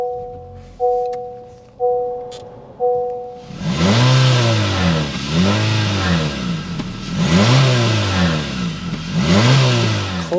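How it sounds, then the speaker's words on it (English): A 2024 Honda HR-V Sport with an exhaust tip: three door-open warning chimes, then the engine cranks and fires into a loud close idle, with rising and falling revs from the exhaust. "start it up so you can hear that exhaust note"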